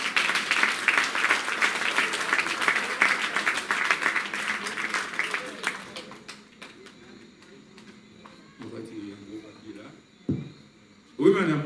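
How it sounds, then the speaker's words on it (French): Guests at a centenarian's party break into lively, sustained clapping for several seconds, then it thins out to scattered claps as voices talk and call out nearby. "Il aimait ça aussi, et applaudissements."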